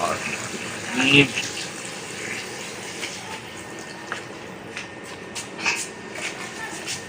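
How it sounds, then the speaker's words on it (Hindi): A bucket of water gushes and splashes as it is poured into a cooking pot of paya, a brief surge early on followed by quieter sloshing and trickling. "अब हम इसमें ऐड कर देते हैं जी एक बाल्टी पानी"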